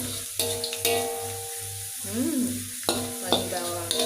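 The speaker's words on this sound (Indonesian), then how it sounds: "Ini sampai digoreng sampai agak kecoklatan aja, jangan sampai gosong ya." Shallots fry and get stirred in a pan for red sambal, with a soft steady sizzle under sharp scraping clinks of the utensil against the pan and a faint background hum.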